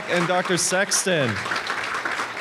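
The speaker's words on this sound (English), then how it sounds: "Please give another round of applause for our panelists" An audience at a panel on cannabis and PTSD in veterans begins applauding the panelists, with someone speaking briefly over the start before a soft, steady clapping carries on alone.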